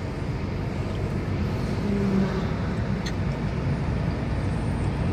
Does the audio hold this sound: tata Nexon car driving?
yes